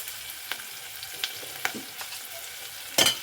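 Onions sautéing in a pan for drumstick sambar, a quiet steady sizzle broken by scattered soft stirring knocks and a louder scrape near the end, with no talking.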